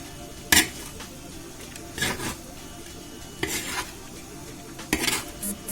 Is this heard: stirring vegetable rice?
yes